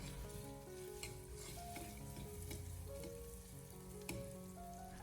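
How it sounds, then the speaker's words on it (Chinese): Ginger, garlic and chili stir-fried in rendered fat and oil in a wok over low heat, a steady dense sizzle with scraping strokes and tonal clatter running throughout, close and continuous. "再把切好的姜蒜、小米辣放进来，再继续的开小火，不停的翻炒几下，把小料也炒出香味"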